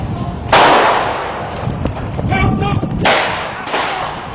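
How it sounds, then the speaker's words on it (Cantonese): Gunshots fired by a policewoman at a kidnapper: two or three sharp, loud cracks a few seconds apart, with commotion and scattered noise between them. "趁歹徒不備，白 T 恤女警果斷掹槍射擊"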